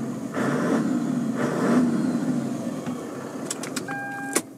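A 24-valve Toyota 1HD diesel engine in a 1998 Toyota Land Cruiser VX Limited idles with a low, steady rumble, a couple of louder surges, then a few clicks and a short tone near the end.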